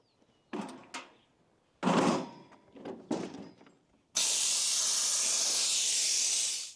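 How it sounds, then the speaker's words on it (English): Compressed air bursts from a large air compressor tank: a few short hissing releases, then one long, even, loud hiss that carries on to the end, with no voices. "This is a pretty good size air compressor and I just let all the air out of it."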